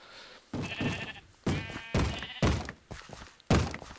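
Blocky Minecraft sheep in a modded FTB game bleat in a series of about six loud, close calls spaced irregularly with brief silences between them.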